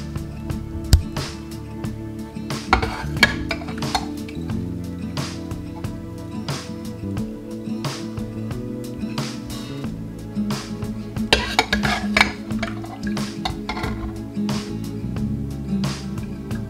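Cooked zucchini and yellow squash served from a crockpot, close spoon clinks and scrapes against the ceramic pot in an irregular rhythm, with soft handling noise between.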